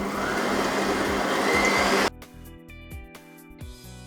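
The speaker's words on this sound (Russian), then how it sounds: "В чашу миксера отправляю яйца, щепотку соли, сахар и ванильный сахар. И начинаем взбивать." A hand mixer whips eggs with a pinch of salt, sugar and vanilla sugar in a bowl, giving a loud, steady whirring drone for about two seconds before cutting off abruptly, leaving soft background music.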